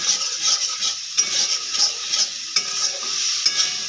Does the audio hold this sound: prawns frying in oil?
yes